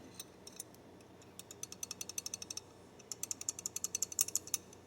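Headspace gauge being inserted into a rifle barrel extension, a series of faint, sharp metallic clicks and ticks coming in quick uneven bursts, close and quiet against a soft background.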